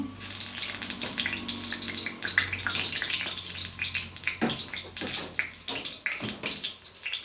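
Whole spices (cinnamon, cloves and bay leaf) sizzle in hot coconut oil in a pan for a Karnataka-style mushroom masala curry, giving a steady, close crackling hiss with scattered sharper pops throughout and no voices.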